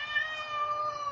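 A single drawn-out cat meow, fairly close and steady, lasting about a second with no other sounds around it.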